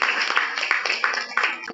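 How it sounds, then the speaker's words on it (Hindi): A short, dense burst of applause for a team fills the room, with many hands clapping at once, loud and close, with faint voices mixed in. "तब टीम के लिए एक बार जोरदार तालियां चाहूंगी"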